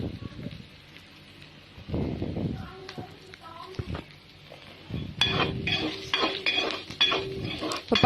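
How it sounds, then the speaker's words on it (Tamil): Jackfruit seeds frying in a pan with turmeric and chili powder, stirred with a utensil that clinks and scrapes against the metal in bursts, louder in the second half, with a voice talking over parts of it. "நான் மஞ்சள் தூளும் மிளகாய் தூளும் போட்டுட்டு அதை நல்லா ஃப்ரை பண்ணிகிட்ருக்கேன்"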